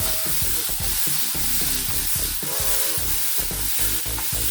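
Patola and scrambled egg are stirred in a sizzling pan, loud continuous frying with repeated scraping and clattering strokes of the spatula.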